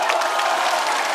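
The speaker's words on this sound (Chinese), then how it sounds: "这个商务值得一个掌声" A studio audience at a stand-up comedy show bursts into applause, a brief, dense wash of clapping from many hands that stays even throughout.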